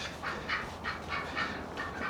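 A duck quacks near a 1969 Mercedes car, giving a rapid series of nasal calls in a steady rhythm over a low background rumble.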